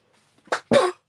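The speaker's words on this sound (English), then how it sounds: "I will try to keep my coughing to a minimum" Two sharp coughs from a person in a quiet room, a short first burst followed quickly by a louder, longer second one, close to the microphone.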